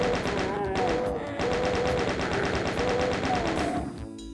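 Chaingunner machine gun fire in Doom 2, a rapid, evenly spaced stream of shots running continuously for several seconds, loud and close, with game sounds layered in.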